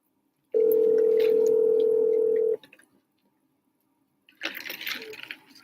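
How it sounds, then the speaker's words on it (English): Phone ringing tone of an unanswered call, a single steady electronic tone lasting about two seconds, followed by silence and then faint rustling and background noise. "Now you don't want to answer your phone?"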